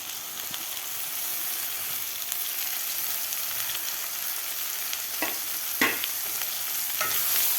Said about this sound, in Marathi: भाज्यासुद्धा आपल्याला या खालच्या मसाल्यामध्ये व्यवस्थित मिक्स करून घ्यायच्या आहेत